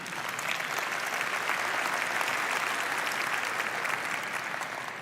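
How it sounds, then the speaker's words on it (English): Steady applause from a large audience at the Nvidia GTC 2025 keynote, sustained clapping at an even level throughout. "Only at GTC do you get an applause for that."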